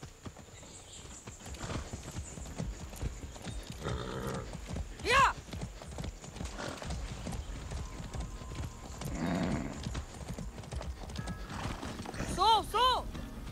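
A horse in the Far Cry 6 video game clip-clops steadily and whinnies loudly twice, once midway and again near the end, under a voice and game sounds.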